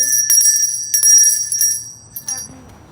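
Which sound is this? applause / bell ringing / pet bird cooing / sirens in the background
bell ringing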